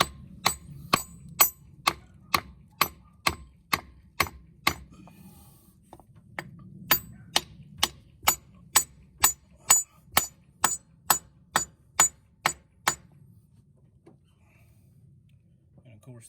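Ford 7.3L diesel injectors on an OBS Ford being whacked into place: a long, steady series of sharp ringing metallic strikes, roughly two per second, close and crisp, with a brief pause midway, over low background hum and some talk.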